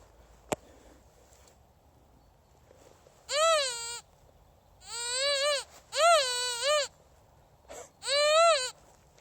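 A saiga calling in a forest: four fairly loud, wavering bleats with short gaps between them, preceded by a single sharp click.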